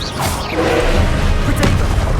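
Confringo blasting spell explosion in Hogwarts Legacy: a loud, dense booming burst of crashing noise sustained over a couple of seconds, with a sharper crack partway through.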